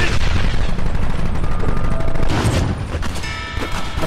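Loud, dense gunfire from a shootout in the video game Red Dead Redemption, rapid overlapping shots and booms filling the whole stretch before easing slightly toward the end.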